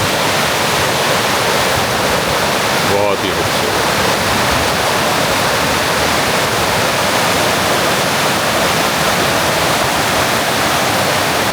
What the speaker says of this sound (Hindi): ऊपर ग्लेशियर्स का पानी पिघल के आ रहा है